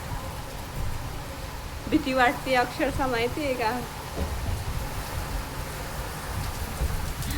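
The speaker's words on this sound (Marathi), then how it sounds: "बघा जो पाऊस कसा पडतोय, दिसतोय तुम्हाला पाऊस पडतोय" The first monsoon rain of the season falls with wind in a village, a steady hissing downpour that continues throughout, while someone speaks briefly over it.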